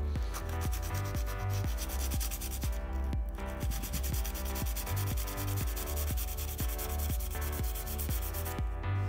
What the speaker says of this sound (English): Now that all the horns have been sanded on their contact area